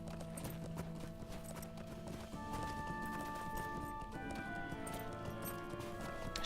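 Mount hooves clip-clopping in the online game LOTRO, likely a sheep mount, a steady trotting patter under game music and ambient tones, fairly close and continuous.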